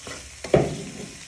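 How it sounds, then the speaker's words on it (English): Beef and vegetables are tossed in a hot pan for beef in black bean sauce, giving a brief close stir-fry clatter followed by a bright sizzle that fades over about a second. "now you place the meat back into your pan with your vegetables"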